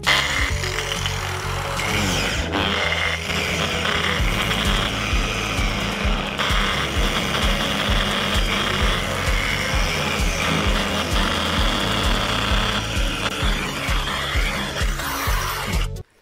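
A cheap Nowa angle grinder idles at its lowest speed setting, a steady low motor hum with a buzzing whine running continuously and fairly loud for the whole stretch.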